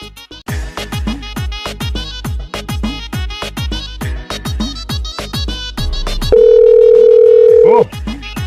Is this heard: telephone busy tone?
yes